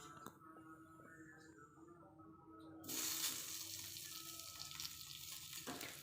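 Alu vadi slices are laid on an oiled hot tawa. A quiet start gives way to a sudden burst of bright oil sizzle about halfway through, which then holds steady and close.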